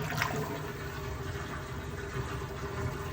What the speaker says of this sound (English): Easy enough, just drain the water.